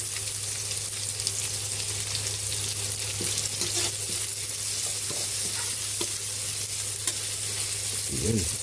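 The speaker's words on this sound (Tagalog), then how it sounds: "Lagyan na rin natin yung ating onion." Onion frying in a pan for sinigang sa miso, a steady close sizzle under faint clinks of stirring utensils, with no talk.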